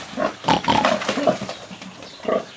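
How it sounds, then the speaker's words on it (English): A pig, a sow with five young, grunts and snorts in several rough, close bursts inside a shelter while rain falls, loud and irregular, with a short pause before a final grunt. "The pig's in here at the moment."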